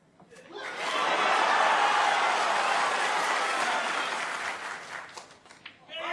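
A packed Crucible snooker crowd breaks into loud sustained applause and cheering for Ronnie O'Sullivan's 147 maximum break, swelling quickly then tapering, with some laughter mixed in.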